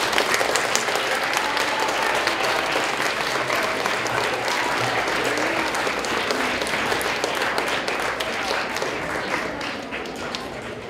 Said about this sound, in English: Can you guys give a big round of applause to your teachers that stayed with you?